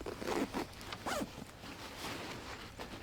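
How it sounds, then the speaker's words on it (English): Zipper on the outside of an Exo Mnt Gear K3 4800 backpack is pulled in several quick, rasping strokes, close and fairly quiet, with no talk. "zipper on the outside of the pack here."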